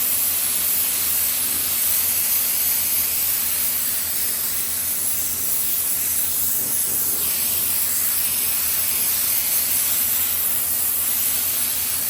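An airbrush sprays candy paint for realistic flame artwork, giving a continuous loud hiss of air and paint that runs unbroken throughout, with no talking.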